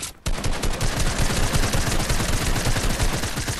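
Rapid gunfire in the video game Fortnite, a dense continuous burst of automatic shots that starts abruptly after a brief pause and rattles on loudly without letup.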